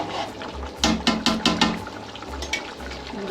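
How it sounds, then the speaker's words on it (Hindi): Rice being added to a biryani pot of tender chicken and soft potatoes, heard as a few close, quick rushing pours and rattling clusters in a row over a quiet kitchen background. "तो अब इसमें मैं चावल डालूंगी।"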